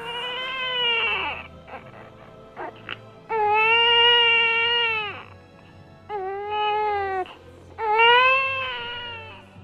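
A newborn baby girl crying in a house in Coyoacán in 1907: loud, close, wavering wails repeated in long bursts with short whimpering breaths between them, no speech over it.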